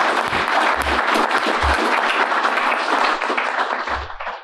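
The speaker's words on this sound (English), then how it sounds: "So a big round of applause for those three." A live audience at an autumn market review event gives a loud, dense round of applause, sustained clapping from many hands that tapers off toward the end.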